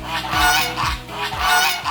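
Lion-head geese on a farm honk loudly and close by, several repeated nasal calls in a steady rhythm with no voices over them.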